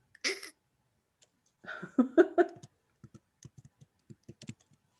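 Typing on a computer keyboard during an online board meeting, heard as a sparse run of soft, irregular key clicks close to the mic, following a brief burst of other movement noise.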